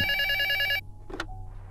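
An old-style telephone bell rings loudly in the Luto horror game, a rapid metallic trill that cuts off abruptly, followed by a brief handling clunk and quiet room tone.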